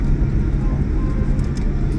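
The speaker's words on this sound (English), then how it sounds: "Oh, there's another plane taking off." A plane taking off at Taoyuan International Airport gives a steady, low, broad roar that holds evenly throughout, with no voices over it.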